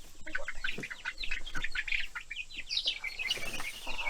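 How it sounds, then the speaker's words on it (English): Chickens raised as frying birds cluck and chirp in a busy, overlapping flurry of short calls, fairly close and with no talk over them. "They're beautiful birds."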